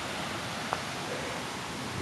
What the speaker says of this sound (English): There's Lee's Creek.